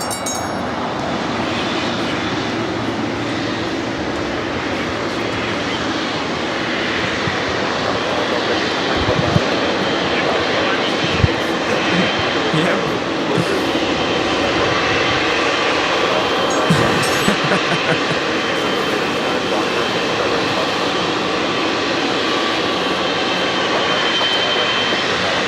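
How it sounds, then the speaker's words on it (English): A Polar Air Cargo Boeing 777 freighter in DHL service lands at LAX, its engines a continuous, even roar that fills the whole stretch, with a few faint thumps and knocks partway through. "This is DHL operated by Polar Air Cargo 962 coming in from Tokyo Narita"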